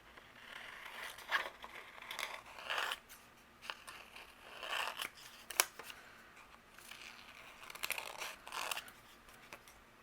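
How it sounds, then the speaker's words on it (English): Scissors snip through vellum along the curve of a paper ephemera piece in close, quiet papercraft work, making a series of short crisp cuts spaced out over several seconds. "I'm going to use my scissors and follow along the curve of my ephemera"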